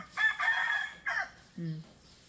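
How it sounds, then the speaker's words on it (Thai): A rooster crows nearby at a rural country home, one short loud crow followed by a lower brief cluck, with little else around it. "พี่ไก่ขันเราฟังอีกต่างหาก"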